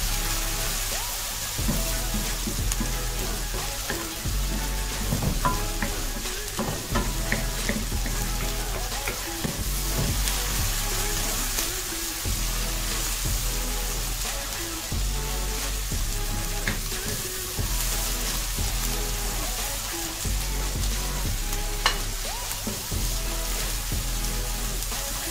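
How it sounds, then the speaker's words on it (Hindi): Potatoes and fenugreek leaves fry in a pan for aloo methi, giving a continuous dense sizzle with scattered crackles and stirring scrapes throughout, fairly loud and steady with no talking. "एक से दो मिनट तक इसको फ्राई करेंगे।"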